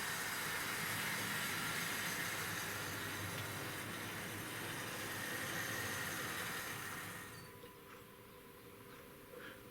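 A Tri-ang model West Country Class locomotive runs on a Tri-ang Super 4 layout, giving a steady, buzzing whir and rattle of small wheels on track that fades noticeably near the end as it slows.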